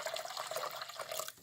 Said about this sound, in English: But if I add water,